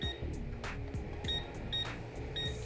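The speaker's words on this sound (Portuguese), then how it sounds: "quando eu encostar uma ponta na outra, ela apita" A multimeter set to continuity mode gives several short, high-pitched beeps as its probes touch while a TV box is being tested, faint against a quiet background.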